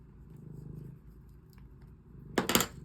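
A cat purrs softly and close by in a steady low rhythm, followed near the end by a brief burst of rustling.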